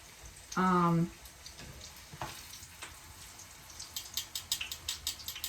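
A tortilla sizzles and crackles in a frying pan, with a brief loud tonal clatter early on, then light intermittent sizzling pops growing busier toward the end, quiet overall.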